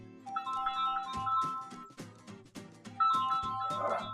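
Phone ringtone chiming a repeating melodic tune indoors, clear electronic tones in a looping pattern at moderate volume.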